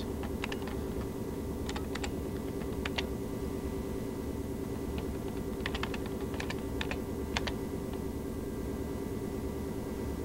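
Computer keyboard typing in short bursts of quick keystrokes, entering a login ID and password, fairly close against a steady background hum, with no talking.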